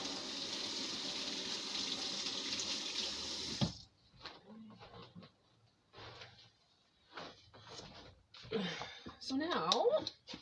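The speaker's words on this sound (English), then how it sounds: "Wash the hands." Hands are washed under a running tap while making a spaghetti casserole, a steady gush of water that cuts off abruptly, followed by scattered handling noises and a voice speaking nearby.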